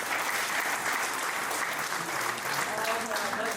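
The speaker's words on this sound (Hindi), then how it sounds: "एक बार रजनी जी के लिए एक बार तालियां" A seated audience at a railway retirement ceremony in Jaipur breaks into sustained applause for an honoree, dense even clapping continuing throughout at moderate loudness, with a faint voice emerging near the end.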